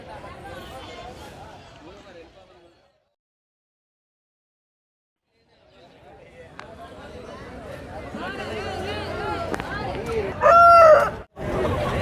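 Roosters crow at a busy village chicken market where chicks, hens and cocks are sold, with a loud crow near the end rising over surrounding chatter and bustle after a brief quiet gap.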